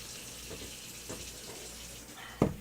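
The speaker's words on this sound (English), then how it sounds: "so it's just getting rinsed out by my awesome production crew" Tap water runs steadily as a pot used for boiling eggs is rinsed out, a constant hiss of flowing water with a few soft knocks and one sharp clunk near the end.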